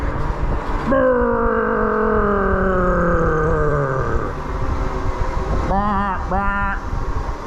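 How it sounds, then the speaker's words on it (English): A truck's Jake brake fires inside a tunnel, a loud, sustained droning rattle whose pitch falls slowly over several seconds, then gives way to two short horn-like blasts, all echoing against the tunnel walls. "All right, my Jake brake, not too bad"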